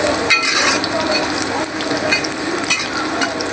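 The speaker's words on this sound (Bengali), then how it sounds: "এখন এই ভুঁড়িগুলো তেলে ফেলাবো।" Pressure-cooked beef tripe goes into hot oil and fries with a loud, dense, crackling sizzle. A few sharp spatula clacks land near the start and toward the end.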